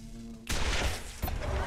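A sudden, loud explosion in the video game Wasteland 2 bursts in after a quiet moment, followed by a second blast-like hit about a second later, both with broad, crackling impact.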